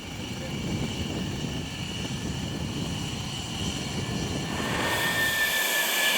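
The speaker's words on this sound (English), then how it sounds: "They taxi to the runway from their shelters with their unmistakable engine sound." Dassault Rafale fighter jets of the Indian Air Force taxi to the runway from their shelters, giving a loud, continuous roaring engine rumble with a rising high whine near the end.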